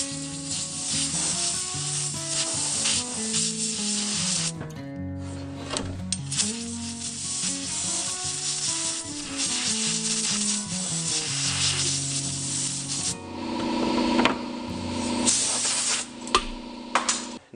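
Compressed air blasting debris off a chainsaw bar and oiler hole, a loud close hiss in long, continuous bursts over steady background noise, no talking.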